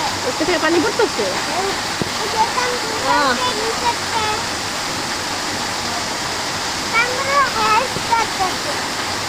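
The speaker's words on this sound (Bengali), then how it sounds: "আগানো হচ্ছে বৃষ্টিও হচ্ছে পানি পড়তেছে" Heavy rain pours down on someone walking home from school, a dense constant rush of water running throughout, and people talk over it at intervals.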